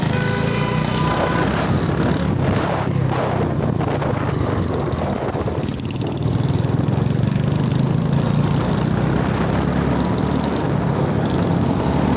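Royal Enfield Bullet motorcycles riding together in a rally, a dense, loud engine rumble with heavy wind buffeting, continuous and close for the whole stretch.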